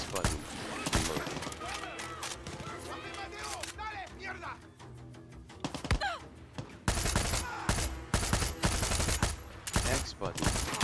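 Bursts of blind-fire gunfire aimed at soldiers in the video game Far Cry 6, rapid repeated shots and fusillades cracking loudly in clusters, with groans and a voice under the shooting.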